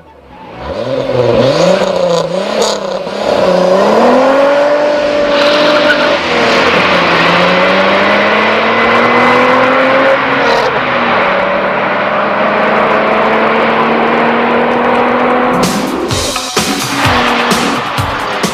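A Renault 25 V6 turbo, a 250-horsepower front-wheel-drive car, accelerates hard at speed, its engine note climbing steadily through the gears as a loud, continuous roar with a rising pitch and no talking.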